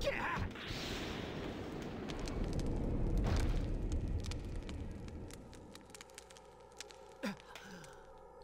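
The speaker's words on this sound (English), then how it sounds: "So now the thing is on fire." A gas burner in a horror video game sets something ablaze: a loud sustained roaring whoosh of fire with crackling bursts, fading into scattered pops and sharp clicks near the end.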